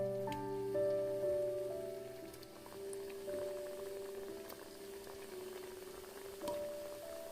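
Biscuit pitha fry in hot oil in a wok, a soft, steady crackling sizzle with sustained background tones underneath.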